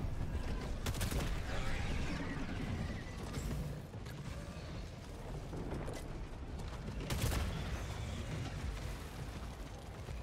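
Rapid crossbow shots and overlapping explosions in the video game Helldivers 2 during a solo fight on Helldive difficulty, a dense continuous barrage of bursts and crashes with sharper blasts near the one- and seven-second marks.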